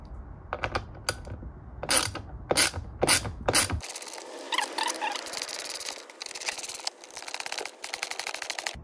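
T20 Torx screws on the air filter housing of a Mk7 Golf GTI are loosened with a hand tool, producing a run of sharp close ratcheting clicks followed by denser mechanical rattling and clicking.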